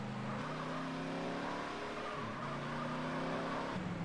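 A car in the GTA San Andreas Multiplayer video game accelerates, its engine tone climbing through gear shifts with a brief dip midway, steady and moderately loud under a constant background hiss.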